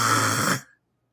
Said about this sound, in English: If the snoring gets louder, I'm on to something.